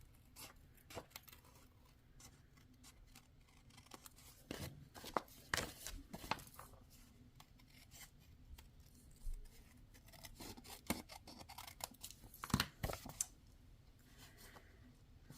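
Scissors snip around a stamped paper piece for a birthday card, with scattered crisp close cuts and soft paper rustles coming in irregular bursts over a quiet background.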